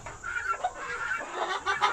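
Hens clucking inside an egg mobile on a homestead, a soft, steady murmur of overlapping clucks and chatter that is faint and close, with no talk.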